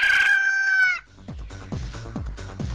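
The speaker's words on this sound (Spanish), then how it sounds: "El despertar del gallo." A rooster crows loudly for about a second in the foreground, followed by a quiet stretch with faint rhythmic thumping in the background.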